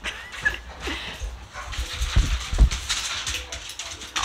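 Several dogs in a house yip, whimper and give short barks in scattered bursts, close by and fairly loud, with thumps and shuffling movement mixed in.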